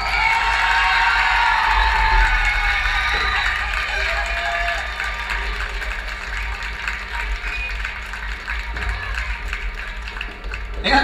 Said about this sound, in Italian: Terza esibizione in finale, applauso per Martina e Maya.